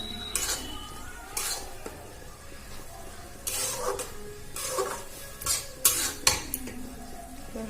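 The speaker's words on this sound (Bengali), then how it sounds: "এবার ভালো করে নাড়াচাড়া করে নেব।" A spoon stirs boiled chana dal in a pan, scraping and clinking against the metal in irregular bursts over a faint sizzle, close and fairly quiet with no talk.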